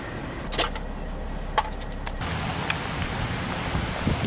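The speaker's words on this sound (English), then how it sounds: "It's raining." Rain falls steadily outside near a hotel by a train track, a continuous hiss with a few sharp closer taps and knocks scattered through it and no voices.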